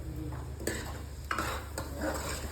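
Tadka tempering being stirred in a hot pan, with crackling sizzle and intermittent scraping clinks of a spoon against metal, close and steady throughout.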